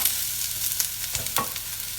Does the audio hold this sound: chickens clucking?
no